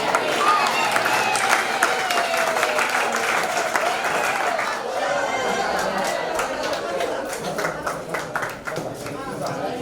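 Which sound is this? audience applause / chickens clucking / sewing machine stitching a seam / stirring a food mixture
audience applause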